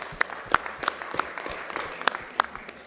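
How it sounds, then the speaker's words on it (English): Scattered, fairly quiet clapping from a small group at a post-fight MMA press conference, OKTAGON 78, with individual claps standing out irregularly over a low room hum. "Yes, they deserve the applause."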